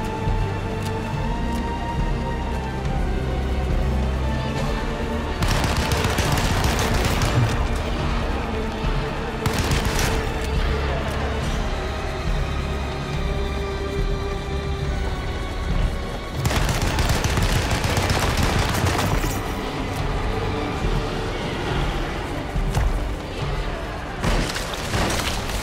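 Machine gun fire from the PC remake of Alone in the Dark (2024) comes in dense, loud bursts of rapid shots, with two long volleys and a shorter one separated by stretches of tense game ambience.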